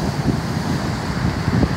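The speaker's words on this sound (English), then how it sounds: "Very windy today." Strong wind on a beach walkway in Spain roars as a dense, steady rush against the microphone, with a low rumble like surf underneath.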